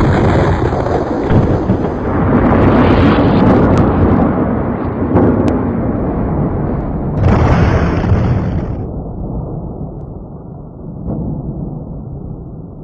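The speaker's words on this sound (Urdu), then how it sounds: "یہ وہ عظیم الشان دھماکہ تھا" A huge Big Bang explosion effect roars with a deep, sustained rumbling boom, swelling again in a second surge midway before fading into a long low-pitched decay, loud and without any voices.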